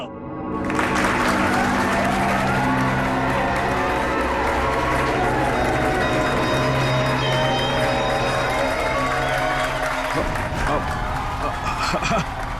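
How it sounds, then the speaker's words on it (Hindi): A large crowd claps and cheers loudly and steadily for several seconds, a dense wash of applause that thins slightly near the end. "तालियां!"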